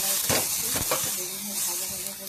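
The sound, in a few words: yardlong beans frying with garlic and green chilli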